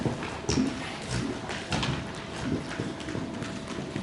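Horses worked in balance during a riding clinic, their hooves clip-clopping in a steady rhythmic gait at moderate distance, with soft background ambience and no speech.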